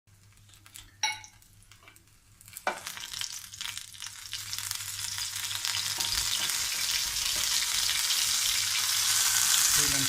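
Cumin, coriander and chili tadka sizzling and frying in hot oil, rising to a steady loud crackle after a few clinks and stirs of a utensil in a pan.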